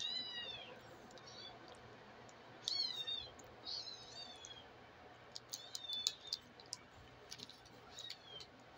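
Small kittens meow in a quiet indoor room, thin high-pitched cries repeating in short bursts over several seconds, with faint clicks and rustles between them and no talking.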